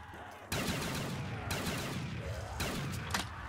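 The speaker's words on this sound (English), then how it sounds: "This shotgun is insane." A shotgun fires at zombies in a video game, with four heavy blasts about a second apart, each booming loud and close and followed by a ringing tail.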